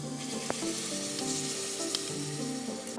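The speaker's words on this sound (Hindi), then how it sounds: "क्यूमिन ऐसे ही हल्का सा ड्राई टोस्ट।" Cumin seeds dry-toasting in a pan give a steady, close sizzle and crackle, broken by a few sharp ticks and the light scrape of stirring.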